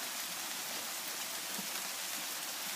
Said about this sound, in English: It's raining, oh my god!